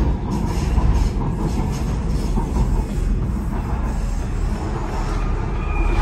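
A driverless Docklands Light Railway train running in London, heard as a loud, continuous rolling rumble with rattling and faint wheel noise, close by, with no talk.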